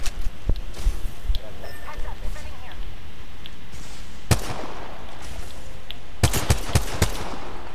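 Gunfire from the G7 Scout rifle in a shooter game: scattered sharp single shots early, then a loud close report near the middle and a quick cluster of cracks toward the end, over steady background noise with voices talking.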